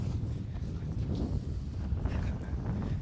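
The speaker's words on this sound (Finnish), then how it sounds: "Tää on kyllä aika kova tää tuuli." Strong outdoor wind buffets the microphone in continuous low, rumbling gusts, loud and unbroken with no voices.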